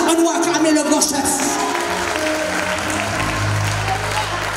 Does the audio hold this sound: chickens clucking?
no